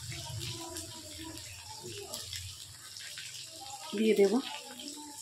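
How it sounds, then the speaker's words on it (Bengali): Water is poured into a mixer jar to rinse out leftover ground mustard and cumin paste, a short splashing gush near the end after quiet speech. "এরকম করে জল ঢেলে আর দেব"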